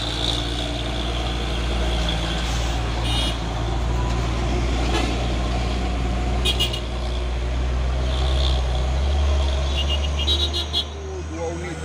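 An orange truck and bus pass along a road, giving a steady, heavy engine rumble with a constant low drone and broadband traffic noise throughout, while people talk nearby.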